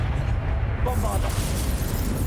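A Bombarda explosion spell in the Hogwarts Legacy video game booms amid dense combat noise, with a brief burst partway through over steady low rumble.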